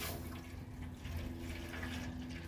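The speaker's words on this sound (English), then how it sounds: "He's filling his water pan." Water runs steadily into a water pan outdoors while a pork shoulder cooks nearby, a continuous soft rushing hiss with no voices.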